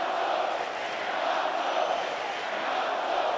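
A large arena crowd at an Olympic men's light boxing final in Rio roars and cheers in a steady, dense wall of noise, loud and continuous with no break.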